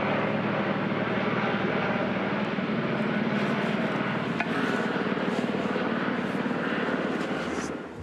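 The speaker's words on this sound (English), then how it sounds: "we got that chopper flying over" A helicopter flies overhead with a loud, steady engine roar and faint rotor chop that holds at full strength, then eases slightly at the end.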